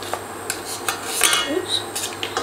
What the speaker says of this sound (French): On vient mélanger un tout petit peu.